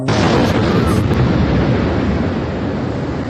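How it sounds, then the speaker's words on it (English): An explosion at a residential complex in Moscow, heard as a loud, sustained roar and rumble that fills the whole clip, with heavy wind-like buffeting on the microphone and no clear talk. "There was such an explosion here just now."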